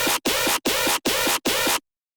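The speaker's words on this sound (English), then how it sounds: "a low end screech that's kind of has like a little pop at the end, like a wah at the end" Low-end bass screech sample in a Ray Volpe style: five loud, dense, gritty bursts in a quick even rhythm, each ending with a short wah-like pop, then silence.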